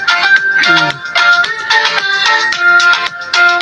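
A bright, cheerful royalty-free tune plays back loud and clear in a video editor, with plucky melodic notes bouncing in a quick repeating pattern and no voices over it.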